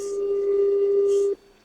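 Telephone call, a single steady ringback tone held for just over a second, loud and close, then cutting off into quieter background.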